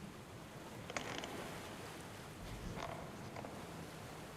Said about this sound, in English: That's creaking rigging. Or creaking ship.